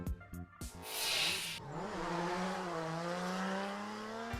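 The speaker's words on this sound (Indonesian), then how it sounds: "Ngedriftnya di jalan tol." A car drifts on a toll road, its engine revving hard with a rising, wavering tone and a broad burst of tire noise early on, then a sustained loud drone.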